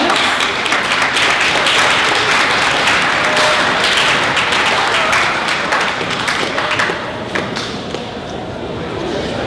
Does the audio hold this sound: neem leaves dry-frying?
no